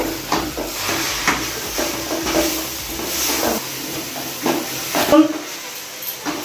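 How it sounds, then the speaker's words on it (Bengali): Sliced carrots frying in ghee in a pan hiss and sputter steadily, with occasional scraping stirs, while a voice talks over the cooking. "কেটে আমি ঘি দিয়ে গাজরটাকে ভেজে নিচ্ছি"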